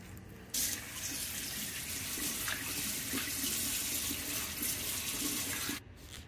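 Tap water runs steadily into a sink while a gutted pompano is rinsed, a continuous close splashing flow that starts and stops abruptly, with no speech.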